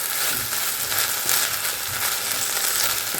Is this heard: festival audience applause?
no